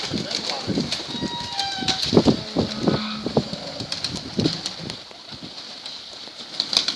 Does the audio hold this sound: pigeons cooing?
yes